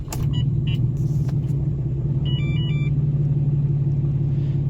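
A 2017 Cummins diesel truck engine idling at close range, a steady low rumble throughout with a few faint higher clicks and tones above it, no talking.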